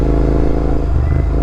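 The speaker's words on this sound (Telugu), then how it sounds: "నేను యాక్చువల్లీ బైక్ ఫస్ట్ టైం తోలుతుండేది బీచ్లో" A GT650 motorcycle rides across beach sand, its engine giving a loud, steady low rumble close to the microphone with a faint clatter and no talking.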